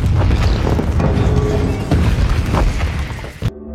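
A heavy explosion booms near solar panels in a film scene, a dense, loud rumbling blast that roars for several seconds before cutting off abruptly into near silence.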